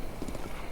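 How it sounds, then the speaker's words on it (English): Horses in Zelda: Breath of the Wild, with a brief burst of hoof clip-clop against a steady game ambience, fairly quiet and alone with no talk. "here are some horses that you can actually get just by sneaking up on them"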